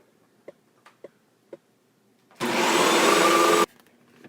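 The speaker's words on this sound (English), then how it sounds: "I'm just gonna vacuum this up" A vacuum cleaner runs for about a second, steady and loud, sucking dust out of baseboard heater vents, after a few soft taps and clicks.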